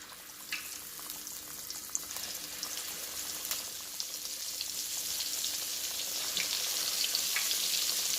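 Flattened panjeeri dough fries in hot ghee, giving a soft continuous sizzle with scattered crackles and pops that grow slightly louder over time.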